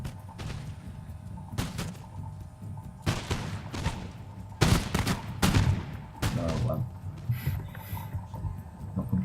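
Muskets fire in an Empire Total War battle. Scattered loud cracks and booms come at uneven intervals rather than as one volley, over a low rumbling battlefield background.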